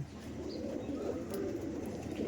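Chatial pigeons coo softly and repeatedly close by, their low burbling calls running over a steady background hum.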